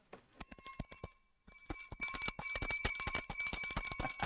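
A small bell rings in a quick run of bright, close metallic dings, pausing briefly before a denser, louder flurry of rapid strikes.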